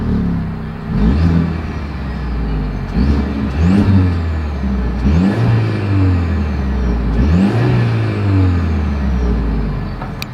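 A 2024 Mercedes-Benz GLE 350 exhaust revs up in several loud, sweeping bursts, each climbing and then falling back to a steady idle, heard close with no talking.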